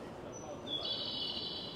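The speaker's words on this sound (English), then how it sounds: "on rail platforms, you'll hear the sound of chirping birds played through speakers to alert them of a stairway" Recorded bird chirps played through loudspeakers on a Japanese rail platform as a stairway cue, a thin high twittering line running steadily through the second half over a low station hum.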